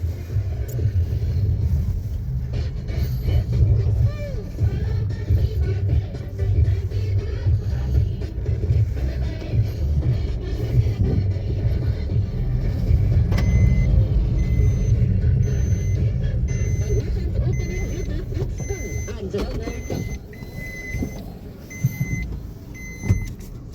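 A 2025 Maruti Alto K10 VXI AMT automatic hatchback driving, with a steady low engine and road rumble throughout, a faint electric whine partway through and a few soft beeps near the end.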